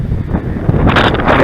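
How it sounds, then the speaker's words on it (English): Strong gusting wind at a Gettysburg battlefield cemetery buffets the microphone, a loud low rumble that swells near the end. "pardon the wind, because it is very windy out here"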